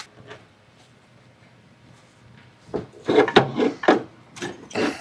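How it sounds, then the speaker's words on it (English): A pry bar scrapes and grinds against the alternator on a Volvo 164e as it is levered loose, with quiet fumbling first, then several close, rough, creaking bursts. "Just got to wiggle that alternator a little bit to get it to move."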